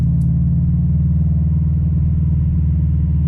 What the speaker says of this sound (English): The Subaru's horizontally opposed boxer engine and unequal length headers give it that classic Subaru rumble.